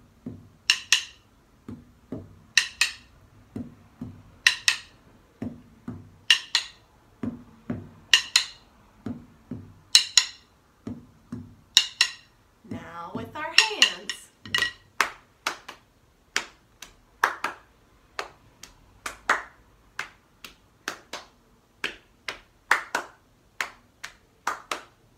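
Rhythm sticks tap out a routine to a remix in a music lesson, with crisp wooden clicks in steady, repeated patterns, close and clear, and a brief scraping rattle partway through.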